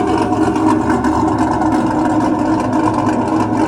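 A blue race-style truck's engine and exhaust roar loud and close, holding a steady, heavy drone for several seconds with no voices.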